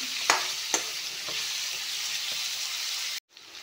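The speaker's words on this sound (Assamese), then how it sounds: "অকল অমিতাখিনি ভাজি ল'ম" Raw papaya pieces frying in hot oil with a steady bright sizzle, a few sharp stirring scrapes early on, then a sudden brief drop in sound near the end.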